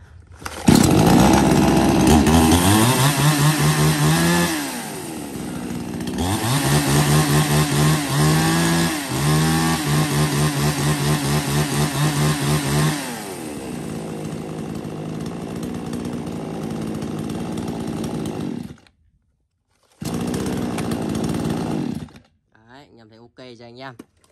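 A used Japanese-market chainsaw of the Stihl, Echo, Makita or Hitachi kind, big enough for cutting acacia, runs loud and close, revving up and down in waves, then cuts off briefly and restarts before a final drop.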